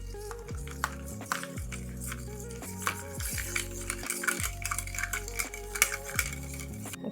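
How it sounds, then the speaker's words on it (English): A spoon stirs a lemon-juice mocktail in a mixing glass, giving rapid, repeated metallic clinks and scrapes against ice and glass, close and fairly quiet, with no talking. "we're gonna give it a stir."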